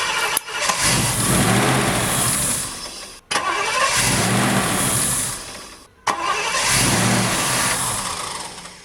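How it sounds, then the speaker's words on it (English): A Triumph Stag V8 on a temporary fuel tank is cranked three times; each time it catches, roars loudly and runs briefly, then dies, with short silent gaps between the attempts. No one speaks. "The car will start, sound pretty sweet, but then it won't carry on running."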